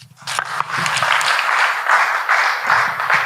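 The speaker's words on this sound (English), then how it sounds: "Can we give him a round of applause?" A conference audience claps in sustained, fairly loud applause that swells and pulses, with a few louder claps near the start and no talking.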